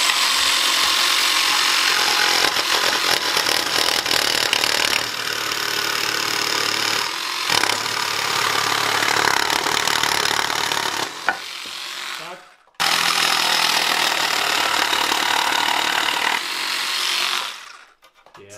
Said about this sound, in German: hier die Überbleibsel quasi absägen